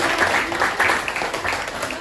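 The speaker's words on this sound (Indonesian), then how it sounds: "kita tepuk tangan dulu dong semua kelompok" A classroom of schoolchildren claps together for the discussion groups, a lively, fairly close burst of hand clapping that runs the whole time with some voices mixed in.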